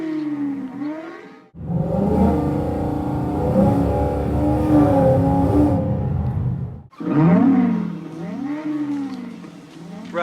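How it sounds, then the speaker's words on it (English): An exhaust tuned to sound like The Wraith's Turbo Interceptor rises in a whining, pitch-sweeping rev, erupts into a sustained roaring blast for several seconds, then drops back to wavering, rising and falling revs, loud and close with no talk. "Remember the exhaust note? This car is eerily similar to that."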